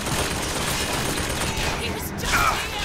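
Gunfire from a barge in Bioshock Infinite, a loud continuous rattle of rapid shots and booming impacts filling the whole stretch, with a voice talking over it.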